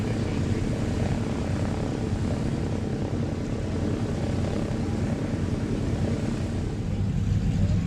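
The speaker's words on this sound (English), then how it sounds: "enjoy the sound of these aircraft coming up for you right now" Steady, loud drone of propeller aircraft engines flying overhead, continuous throughout with a deep throbbing rumble and no pauses.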